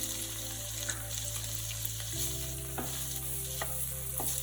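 Finely chopped onions fry in ghee in a pan for a chicken steak, a steady close sizzle with faint stirring scrapes and a constant low hum under it, no talk.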